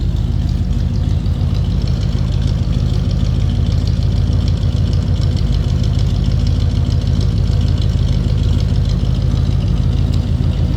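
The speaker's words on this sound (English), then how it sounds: "Little rumble coming out of that 317." A 1956 Pontiac Chieftain's 317 V8 idles steadily, a deep, even low rumble heard close up and continuously with no talking over it.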